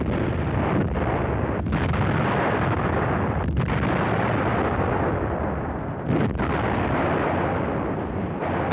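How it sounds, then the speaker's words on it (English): Loud, sustained rumbling barrage of 105mm field gun fire from German FH-18 howitzer crews, dense continuous booms filling the whole stretch with a few brief dips, no voices. "these 105mm gun crews had to load and fire their guns day after day"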